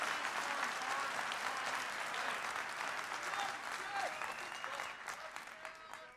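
A large audience at the BlizzCon 2019 opening ceremony cheers and applauds continuously, a dense wash of clapping and shouts that stays loud throughout before easing slightly at the end.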